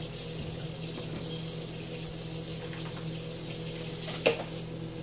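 Tap water runs steadily into a kitchen sink to fill it for washing dishes, a continuous close hiss and splash with a brief louder gurgle near the end, no talking.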